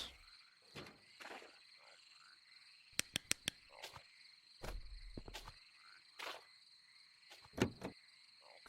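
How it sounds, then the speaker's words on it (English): Frogs croaking in the Loveland demo video game, a scattered series of separate croaks and clicks over a steady insect-like background hum, with a quick burst of sharp clicks near the middle. "So many frogs."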